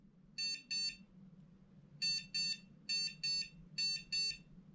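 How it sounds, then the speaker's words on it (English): A Slopehill remote dog training collar beeps in quick paired bursts, four double beeps with short gaps, clear and high over a faint background hum. "There's a beep."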